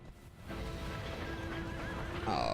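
A horse whinnies from the game Shadow of the Colossus, a rising then wavering neigh over a steady rumbling game background, with a brighter squeal near the end; no voices.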